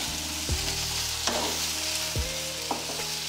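Onion, tomato and capsicum sauté together in a pan, with a light sizzle under a steady low hum and a few sharp stirring knocks and scrapes.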